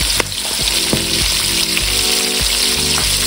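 Loud, steady sizzling of battered squid frying in hot oil, with crackles and pops throughout and occasional clinks of a utensil.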